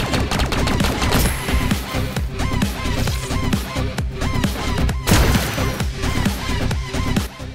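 A plasma pistol firing in Halo Infinite amid a busy match, a loud, steady stream of rapid energy shots and impacts layered over other gunfire and game effects, with no talk.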